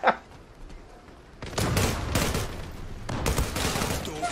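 M4 rifle gunfire in the online shooter Zula. Loud, dense bursts of rapid automatic fire follow a quieter lead-in, with a short gap between two sustained volleys.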